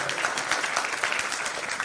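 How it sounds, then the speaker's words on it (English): An audience at an economics summit applauds in a dense, continuous stretch of clapping, steady and fairly loud, with no talk over it. "Round of applause."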